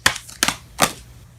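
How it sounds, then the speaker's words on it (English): Tarot cards being shuffled, heard as three sharp, close riffling snaps spaced a short moment apart, with quiet between them. "we're going to shuffle one more"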